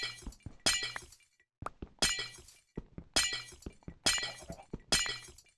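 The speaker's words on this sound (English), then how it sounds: "I have to admit, I like that sound of breaking glass far too much." Glass blocks breaking one after another in the Minecraft Blightfall modpack, mined with a silk touch tool: about five loud, crisp shattering bursts at a steady rhythm, each with a clinking tail, and no speech.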